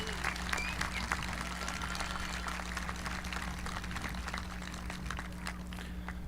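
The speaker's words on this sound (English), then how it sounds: "giving all of these people, family members and all, a big round of applause" Stadium crowd applauding students' families at a junior high school promotion ceremony for W.B. Green in La Feria, steady dense clapping sustained throughout at moderate distance, with a low hum beneath.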